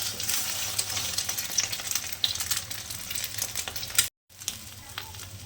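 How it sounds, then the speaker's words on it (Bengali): Onions deep-fry in oil, sizzling and crackling steadily close up, with a brief cut to silence near the end. "একটুখানি ডিপ ভেজে নিচ্ছি"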